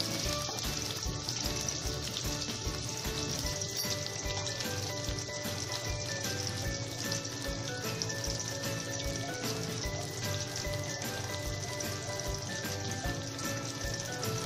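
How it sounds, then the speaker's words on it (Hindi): Chopped onions frying in a pan for Bengali-style bhuna egg khichuri, a steady, even crackling sizzle that carries on without a break, with no talking. "प्याज को थोड़ा फ्राई करके लेंगे"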